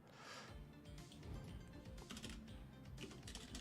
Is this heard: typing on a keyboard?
yes